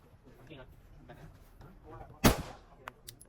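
One sharp, loud gunshot cracks out during a shooting drill, followed by a couple of fainter clicks and knocks, with soft talk and handling noise before it.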